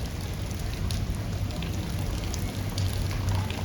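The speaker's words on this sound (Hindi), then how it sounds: "अभी भी बूंदी गिर रही है।" Light rain drops still falling outdoors after a heavy rain, a steady soft patter with a low rumbling background, no voices.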